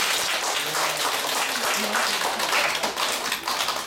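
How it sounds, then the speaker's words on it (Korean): An audience applauds a lecturer at the close of a talk on Choe Chi-won and Daegu, giving a dense, even wash of clapping throughout, with a short spoken phrase over it. "오늘 수고하신 이정근 강사님께 큰 박수 부탁드립니다"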